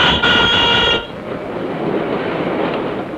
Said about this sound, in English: having fun riding the train, forward and backward and backward and forward